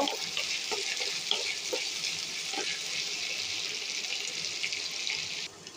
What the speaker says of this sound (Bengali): এখানে আমি দুটো তেজপাতা দারচিনি এলাচ দিয়ে দিব এটা আমি কিছুক্ষণ ভেজে নেব